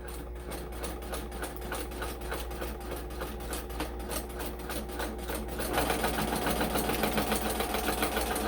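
A sewing machine runs a reverse stitch, its needle hammering in a rapid, even mechanical rhythm close by, growing slightly louder and busier partway through, with no voices.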